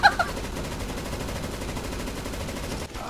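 Sustained rapid automatic gunfire in a Counter-Strike match, a steady rattling burst lasting about three seconds at close range, loud and unbroken.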